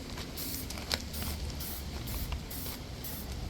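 Spray paint hissing from a can in repeated short bursts, a soft airy spray pulsing on and off over a low background hum, fairly faint.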